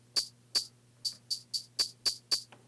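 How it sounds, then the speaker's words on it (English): A dirty, clipped tambourine sample plays from a Roland P-6 sampler, eight short, bright, harsh hits in an uneven rhythm over a faint steady hum, with no voices. "And same with the little tambourine sound."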